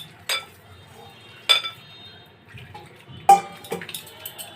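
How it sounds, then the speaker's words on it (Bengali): Batter mixed by hand with water in a bowl: a few separate clinks and taps against the bowl, close by and spaced out, with soft sloshing between them. "অল্প অল্প জল দিয়ে একটা ব্যাটার তৈরি করে নিব"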